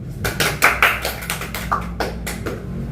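Scattered applause from an audience, a string of sharp irregular hand claps rising and fading over about three seconds with no voices.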